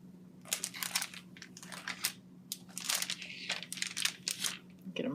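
A small plastic bag of craft kit embellishments crinkles and rustles close by in irregular bursts, crisp and papery, with a faint steady hum in the background.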